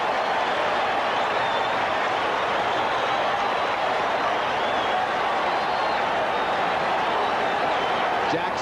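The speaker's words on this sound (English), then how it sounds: "This crowd will tell you what's happening." Baseball stadium crowd at a 1978 World Series game between the Yankees and Dodgers, a loud, continuous roar of cheering and clapping sustained at full volume without letup.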